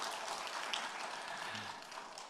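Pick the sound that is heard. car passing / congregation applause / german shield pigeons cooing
congregation applause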